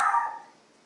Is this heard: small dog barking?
yes